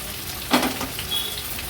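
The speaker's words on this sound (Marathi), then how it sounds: "तेलामध्ये कांदा छान परतून घ्यायचा आहे" Finely chopped large onion frying in hot oil for a clam pulao, a steady close sizzle with one brief louder crackle near the middle.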